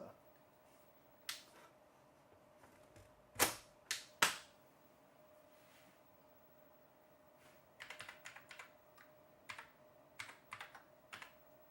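Keys are tapped on a Commodore computer keyboard under test, with sparse single clicks and a couple of sharp louder strikes, then quicker bursts of typing near the mic over a faint steady hum.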